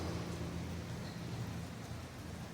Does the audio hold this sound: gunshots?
no